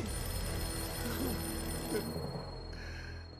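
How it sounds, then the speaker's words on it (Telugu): A telephone rings in a Telugu action movie scene, repeated bell-like rings over a dense background of music and room noise, moderately loud, with the ringing cutting off near the end. "ఫోన్ లో ఎవడో జాకీ మార్తాండా మాట్లాడుతున్నాను అంటున్నాడు."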